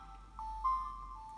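A Samsung GT-C3370B mobile phone plays its startup tone while powering on during a hard reset: a short, quiet run of electronic notes that rises slightly in the middle.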